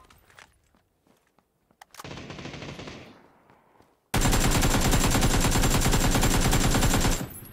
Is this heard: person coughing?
no